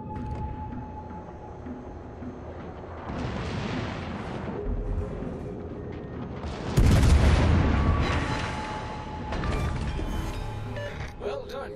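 Warship guns fire in World of Warships: deep booming salvos roll out in heavy bursts, with one big blast near the middle and crashing impacts after it, over a low ambient rumble and a faint tone.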